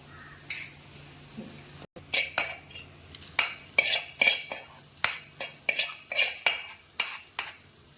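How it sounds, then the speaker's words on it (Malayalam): Hot tempering poured into an Angamaly-style mango curry, then a spoon clinks and scrapes against the pot in a quick series of sharp strokes, close up, after a brief hiss, with no voices. "അപ്പോൾ നമ്മളിനി കറിക്കകത്തോട്ട് അങ്ങ് ഒഴിച്ചു കൊടുക്കാം."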